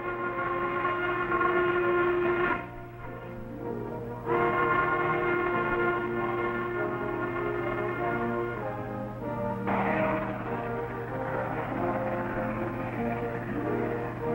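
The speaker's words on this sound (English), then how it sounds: "trains rush toward the sea with their cargoes of black diamonds." A Norfolk and Western freight train hauling coal rolls along with a sustained mechanical drone and a long whistle-like horn tone that breaks off and resumes, moderately loud with no talking.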